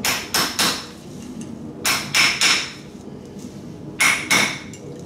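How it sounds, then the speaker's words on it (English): Three groups of sharp metal hammer blows knocking a gear off a Dana 30 axle, two or three strikes each with short pauses between, loud and close with a ringing edge. "then you want to take a hammer"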